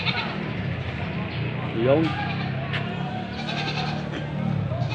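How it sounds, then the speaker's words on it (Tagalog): Herd of goats at a livestock area bleating repeatedly, several calls near and farther off, heard under steady background noise while someone talks. "Ang dami ho din ng kambing, hindi basta lang naman."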